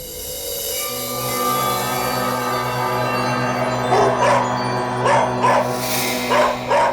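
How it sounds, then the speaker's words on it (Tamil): A dog gives several sharp, loud barks in quick bursts over a steady droning musical background, with no other sounds in between. "முதல்ல இந்த நாய் அடக்குங்க இல்ல"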